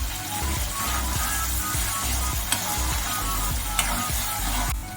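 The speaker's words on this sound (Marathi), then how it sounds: "आता आलं लसूणची पेस्ट व्यवस्थित भाजली गेली की त्याच्यामध्ये थोडीशी कोथिंबीर आधीच टाकायची" Ginger-garlic paste with fresh coriander sizzles steadily in a hot pan, a continuous loud frying hiss with occasional stirring scrapes and a couple of sharp clicks, no voices.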